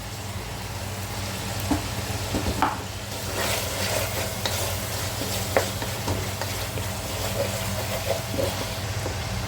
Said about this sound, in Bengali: এখন কিছুক্ষণের জন্য মাংস আর গাজর আর চিংড়ি মাছটা ভাজি করতে দিব